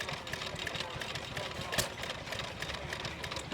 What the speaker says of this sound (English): Quite valuable, these hit and miss engines